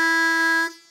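A harmonica draw note played cleanly with proper technique, one steady loud reedy tone held for under a second before tapering off, heard alone.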